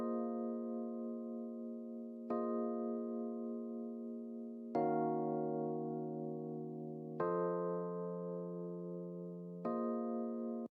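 Piano chords in a beat, heard dry without a compressor, sustained held chords changing about every two and a half seconds, five struck chords with clean decays, alone with no voice.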